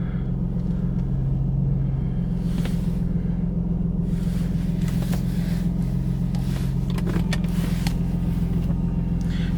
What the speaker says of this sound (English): I'm just gonna leave the car right here for a little bit while it warms up